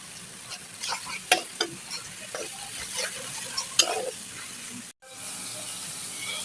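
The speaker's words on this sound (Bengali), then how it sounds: "আদা রসুন ভাজা হয়ে গেছে, এখন দিয়ে দিচ্ছি অল্প করে পানি" Ginger and garlic sizzle in a pan while a spoon stirs spices, with sharp scraping taps over a constant hiss. A brief cut near the end is followed by steadier sizzling.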